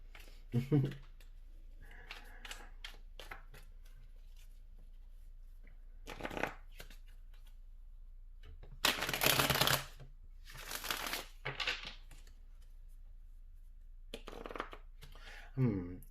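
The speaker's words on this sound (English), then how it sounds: "We're going to go ahead and pull some tarot with this Taurus moon." Tarot cards are shuffled by hand in short riffling bursts, crisp and close, separated by quiet pauses, with no one talking.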